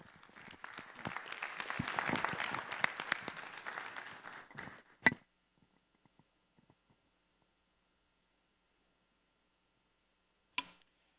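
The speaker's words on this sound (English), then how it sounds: "Let's give another big round of applause to Coach Savalas Charles" Applause at a school board of education meeting honoring a wrestling coach, a modest spread of clapping that swells briefly then stops abruptly, followed by near silence with a couple of isolated sharp knocks.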